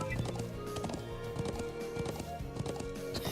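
Horse hooves trotting in the video game Trails of Cold Steel: a rhythmic clip-clop of hoofbeats under a layer of game music, moderately loud and steady throughout.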